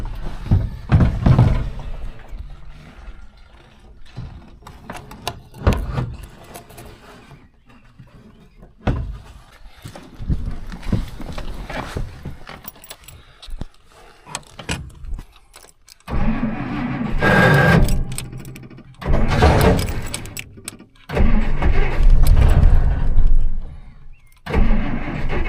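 A Plymouth NASCAR tribute car's starter cranks in repeated bursts of varying length, each growl ending with a sharp thunk as the starter hangs up, with quiet gaps between attempts and a few clunks.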